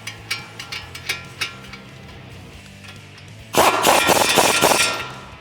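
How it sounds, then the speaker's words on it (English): A wrench works a nut onto a tie rod on a 2021-2022 Ford Bronco during a leveling kit install, first as a series of light metallic ratchet clicks, then a loud, dense burst of rapid ratcheting near the end. "Now that we have those tight, we're going to put our nut on our tie rod here."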